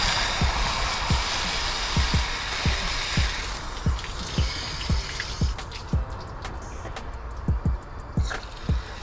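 Water runs through the cooling system of a scooter car during a coolant flush, a steady trickling wash with repeated low knocks or drips pulsing roughly every half second, close and moderately loud with no talk.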